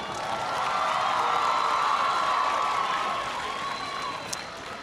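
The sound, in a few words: audience applauding and cheering for Ali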